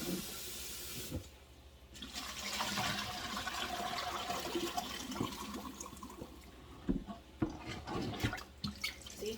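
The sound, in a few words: water draining from diced potatoes through strainer into sink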